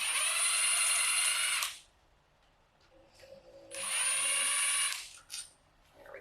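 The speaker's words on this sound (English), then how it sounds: "now you can go ahead and use your power tool" A power tool runs during a K24 engine teardown in two loud whirring bursts of about two seconds each, separated by a quiet pause with faint clicks, then a short blip.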